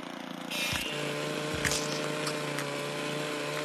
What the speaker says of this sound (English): See, professional lawnmower here.